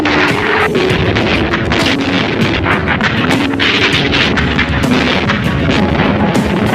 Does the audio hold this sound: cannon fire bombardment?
yes